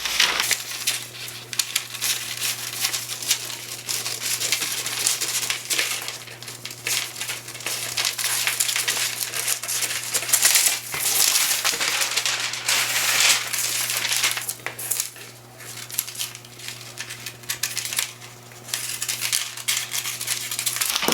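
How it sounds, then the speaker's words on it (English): Scissors cut around a paper dress sloper pattern piece, giving a steady, close run of crisp paper snips and crinkling over about twenty seconds with a faint hum underneath. "I'm going to cut around that pattern piece or that sloper"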